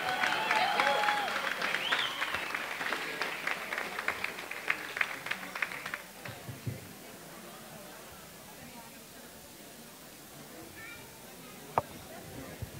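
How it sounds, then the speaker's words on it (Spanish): Festival crowd at an Ecuadorian festival in Calgary gives a burst of applause with some cheering under an announcer's voice, dying away after about six seconds into quieter outdoor ambience with a few scattered claps. "Podemos recibir con un fuerte aplauso a Edgar"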